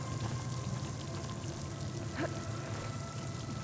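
Running water in the video game Horizon Forbidden West, a steady, even rush of noisy splashing that continues throughout with no speech.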